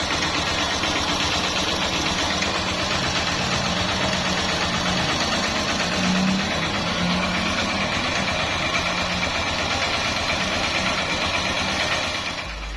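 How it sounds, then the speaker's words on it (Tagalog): Honda CB125 motorcycle with its air suction valve deactivated, idling with a steady, fast mechanical tick and low chugging rhythm, close and moderately quiet, alone without talk. "pakinggan naman natin yung tunog ng idle at tunog ng makina"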